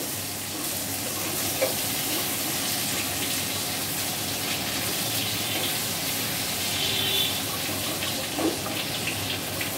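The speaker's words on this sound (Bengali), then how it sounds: "দিদি এবার আলুটা একটু ফোড়নের সাথে নেড়ে নিচ্ছে।" Potatoes sizzle in hot oil with tempering spices while being stirred, a dense, constant frying hiss with faint scraping, close and even throughout, no talking.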